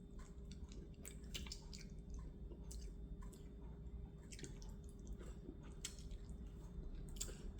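Soft, wet chewing and slurping while eating a fish head from tinola fish soup, close and quiet, with irregular squishy bites and drips over a low steady background hum.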